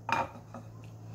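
Stir-fried basil shrimp is plated: one sharp clink of cutlery on a dish, followed by a softer tap and quiet handling noise.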